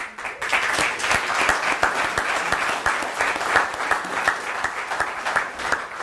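Lecture audience applause at Southern Miss, a lively burst of many people clapping with distinct individual claps standing out in a steady rhythm, moderately loud and sustained, heard alone without speech.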